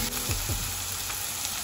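Sliced onions sizzle steadily in a hot pan just after salt goes in, with a broad close frying hiss throughout and a couple of faint stirring scrapes.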